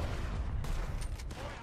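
Gunfire sounds in the video game Red Dead Online: a few sharp shots crack over a dense, rumbling game background. Someone also seems to speak faintly underneath.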